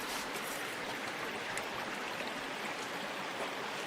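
Water in a Wyoming stream rushes and churns close to the microphone, a steady broadband wash with no distinct splashes and no voices.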